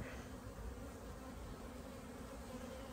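An opened honeybee hive with a strong colony and two honey supers, buzzing in a dense, steady drone throughout, close and continuous with no talk.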